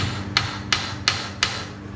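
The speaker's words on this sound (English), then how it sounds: "I'm just going to hit the side right here with a hammer" A hammer strikes the side of a steel control arm pin four times at an even pace, sharp metallic clanks up close over a low background hum.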